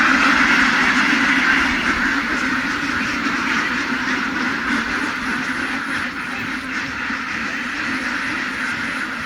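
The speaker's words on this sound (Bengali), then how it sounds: "ডিম বাড়ানোর জন্য হাঁসগুলা কেনা হয়েছে আর কি" Ducks on a farm quack constantly in a dense, loud chorus as they are herded into a shed, the calls overlapping and close without pause.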